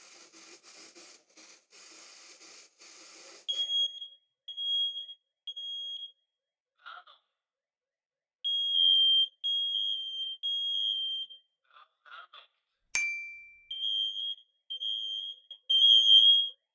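A smoke alarm beeps loudly in repeated high-pitched pulses, stopping and starting, with scraping sounds at the start and a second alarm joining later.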